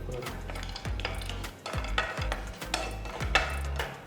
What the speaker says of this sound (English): First I'm going to roast the cashew nuts and raisins. Add a teaspoon of ghee.